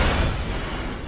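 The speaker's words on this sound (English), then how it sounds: "the explosion also, the shockwave also causes damage to you" An explosion and its damaging shockwave in Diablo 3 go off as a single deep, booming burst that starts loud and rumbles as it fades over about a second.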